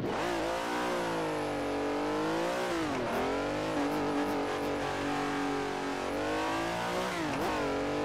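A Ferrari race car in Assetto Corsa revs hard, its engine pitch climbing, dropping at gear changes and climbing again in loud, continuous sweeps, with no talking.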